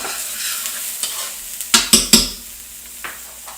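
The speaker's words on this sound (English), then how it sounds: "Now a wooden spoon, give it a turn." A wooden spoon turns white onion and fresh thyme frying in a pan: a soft sizzle, then three sharp, close scrapes in quick succession before the sizzle settles again.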